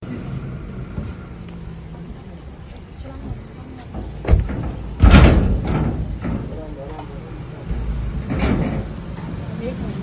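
A door is pulled open close by with a sharp clunk, then a heavier thud a moment later, while people talk and a low traffic rumble continues underneath.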